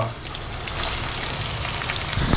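Onions fry in hot oil for a beetroot dish, giving a dense, even crackling sizzle that swells slightly toward the end, with no voices over it.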